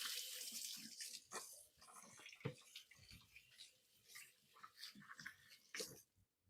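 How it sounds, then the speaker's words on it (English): Running tap water at a kitchen sink while hands are washed, a faint, uneven splashing and trickling with soft bumps and rubbing, quiet throughout with no talking. "So let me wash my hands and then we're going to get this going."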